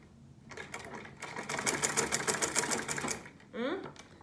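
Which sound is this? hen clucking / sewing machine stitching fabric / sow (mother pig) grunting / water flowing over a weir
sewing machine stitching fabric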